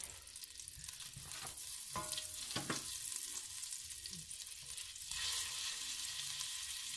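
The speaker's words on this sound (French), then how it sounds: "Et on va commencer par brunir la viande." Steady sizzling and frying of meat browning in a pot for carbonade flamande, with occasional scraping stirs and clinks, no voices, fairly close.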